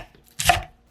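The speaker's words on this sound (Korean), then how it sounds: "대파는 8mm 두께로 썰어 주었어요." A knife cuts through green onion into thick 8mm pieces, producing one brief, crisp chopping burst with a close board knock and no other sound around it.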